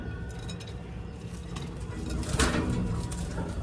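Pigeons cooing in a loft where birds sit on eggs in cages: low soft coos mixed with a busy background of rustling and faint clinks, with a louder burst midway.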